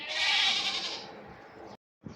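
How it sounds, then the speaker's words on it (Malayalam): Goat bleats set within music: one long, loud, wavering bleat that fades, a brief silence, then the start of another call. "ഇതിൽ മ്യൂസിക് ആയിട്ടുണ്ട്, ആട്ടങ്ങളെ ശബ്ദമുള്ള മ്യൂസിക് ആയിട്ടുണ്ട്."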